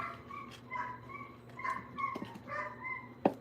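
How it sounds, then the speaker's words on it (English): A dog barks and whimpers indoors in short yips and whines, several separate outbursts spaced across the moment, with a sharp bark near the end. "my doggy is barking like cray"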